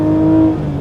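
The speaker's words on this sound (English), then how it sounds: "let's just rev this out" An Aston Martin V12 Vantage with a 6.0-litre V12 engine revs loudly and steadily up close with a smooth droning tone, then eases off slightly at the end.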